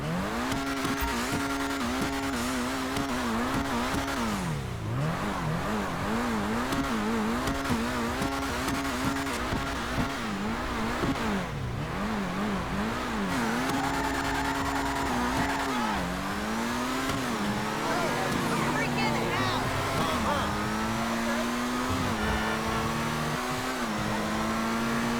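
A GTA Online supercar engine revs up and down repeatedly, its tone climbing and dropping through gear changes, loud and steady throughout with tire noise.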